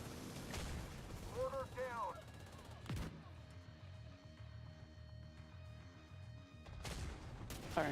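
Gunfire in the video game The Division 2 on PC, heavy sharp shots cracking at intervals with ringing tails and a low rumble, alongside voice chat and in-game callouts.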